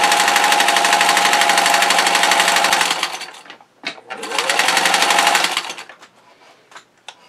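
A Singer 15-91 sewing machine stitches in a loud, steady, rapid run up close, pauses briefly, then runs again before stopping with light clicks.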